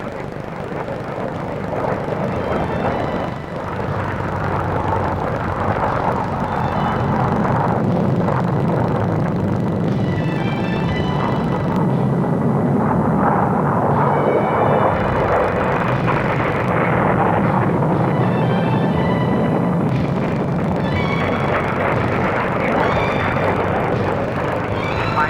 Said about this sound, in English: Aircraft of the aerobatic team, cutting the sky with lovely curves.